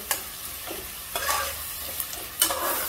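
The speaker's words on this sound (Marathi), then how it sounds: "आता कांदा छान गोल्डन ब्राऊन होईपर्यंत परतून घ्यायचा आहे।" Onion sizzles steadily in a pan while being sautéed toward golden brown, with a few sharp spatula scrapes and stirs over a constant frying hiss, close up and with no voices.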